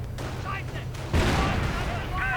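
Bursts of gunfire and blasts in a WWII strategy game battle with grenadiers under fire, a sharp volley followed by a louder explosive impact, under ongoing game noise and someone talking.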